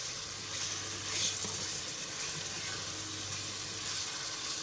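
Fish fried in a pan with green masala, a steady soft sizzle held at an even level throughout, fairly quiet and heard alone.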